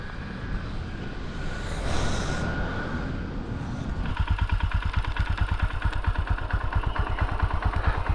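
A motorcycle on a mountain road trip idles with an even, rapid thumping beat that starts partway through, after a stretch of wind-like outdoor noise, loud and close.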